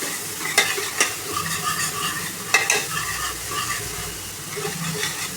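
Onion, tomato and ginger-garlic paste fry in a pan for mutton bhuna gosht, a steady sizzle broken by several sharp scraping stirs near the start and again around the middle, close and fairly loud with no talk.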